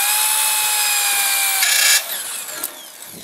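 A Strong Arm 5 portable drill press bores steadily with a loud, even high-pitched whine, then the tone drops and fades as the bit breaks through near the end.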